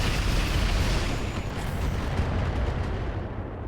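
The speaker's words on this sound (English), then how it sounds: "we're just going to position here instead and drop some LRMs on this guy" LRM missile barrage exploding in the RogueTech BattleTech game, a dense continuous rumble of overlapping booms and blasts, loud and sustained throughout with no pauses.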